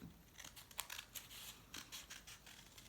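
Several quick, crisp snips of scissors slicing through paper, irregular and close up, with faint rustling between cuts in a quiet room.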